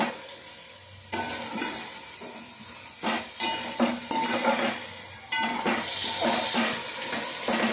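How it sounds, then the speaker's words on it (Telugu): Beef and spices being stirred in a pot for biryani, with scraping, sizzling frying noise and spoon knocks against the pot in bursts, close and fairly loud, no talking. "ఇది మాంసం వేస్తాను కదా ఇప్పుడు బాగా తిప్పుకోవాలండి"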